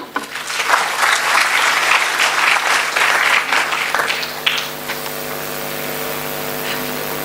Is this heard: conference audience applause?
yes